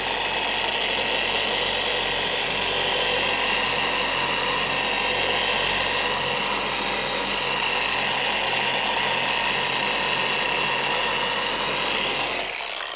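A car paint-correction polishing machine run at roughly speed 3 under heavy pressure, working out 3000-grit sanding marks: a loud, steady whirring drone that holds constant throughout before cutting off abruptly at the very end.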